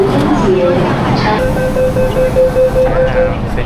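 Hong Kong metro train pulling into a station, a steady loud rumble with a sustained whine and background voices on the platform.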